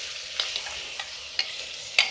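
Spices sizzle in hot tempering oil for mutton curry, a steady close hiss punctuated by several sharp clicks and scrapes of stirring.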